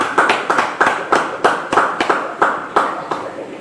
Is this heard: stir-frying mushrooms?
no